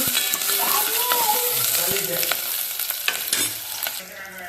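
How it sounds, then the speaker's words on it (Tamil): Onion, green chili and curry leaves sizzle steadily in hot oil with mustard seeds while a ladle scrapes and stirs them, a close, continuous crackle with occasional metallic taps. "கடுகு பொரியும் போதே நம்ம வெங்காயம் பச்சை மிளகா கருவாப்பில் எல்லாத்தையும் சேர்த்துக்கலாங்க கொஞ்சம் கரண்டி வச்சு இதை நல்லா வணக்கிக்கலாங்க"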